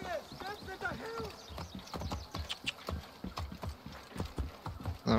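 Rhythmic clip-clop of horse hooves trotting at a steady pace in the video game Assassin's Creed Origins, with a short whinny at the start and a voice briefly heard.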